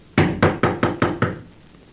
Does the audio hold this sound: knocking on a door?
yes